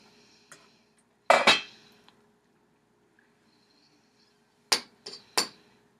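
Spices are lifted out of a pot of homemade apple cider, with a couple of sharp metallic clanks of utensil against the pot separated by quiet pauses.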